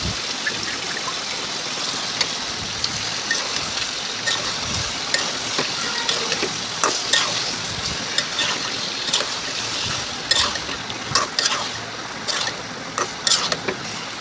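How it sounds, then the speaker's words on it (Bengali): Pangas fish stir-frying in a pan gives a steady, fairly loud hiss with small crackles and pops scattered throughout, close by and without a break. "মাছটা এই যে কষিয়ে ভুনা করে ফেলবো"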